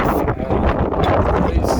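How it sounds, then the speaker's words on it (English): Strong wind buffets the microphone throughout, a loud continuous roar with gusty rumbling. "Well, it's windy."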